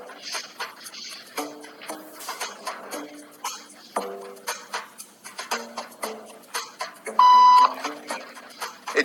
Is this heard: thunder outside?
no